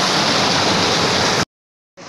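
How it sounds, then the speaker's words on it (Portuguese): Clear water flows from rock in the Amazon forest, a loud, dense, steady rushing that cuts off abruptly, goes silent, then resumes. "Aqui é água cristalina, vem da rocha."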